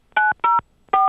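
Three crisp telephone keypad tones beep in quick succession, two close together and a third after a short pause, loud and clean with no talk.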